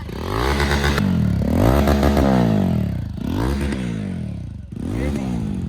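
A Jawa motorcycle's engine and exhaust rev repeatedly, rising and falling in pitch with each throttle blip, loud and close.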